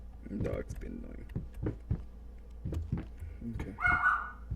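Dog barking in the horror video game Layers of Fear, a few short barks and whimpering yips heard among close talking.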